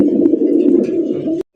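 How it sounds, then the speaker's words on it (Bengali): An Indian Bombay fancy pigeon gives a deep, close, continuous cooing that stops abruptly for a moment near the end before resuming. "সর্বোচ্চ কোয়ালিটি একজন ইন্ডিয়ান বোম্বাই কবুতর ভাই"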